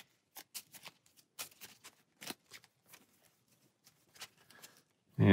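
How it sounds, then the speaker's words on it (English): A deck of Arkham Horror playing cards is shuffled by hand close to the microphone, giving a quiet series of short papery riffles and taps in an otherwise silent room. "So we give that a little shuffle"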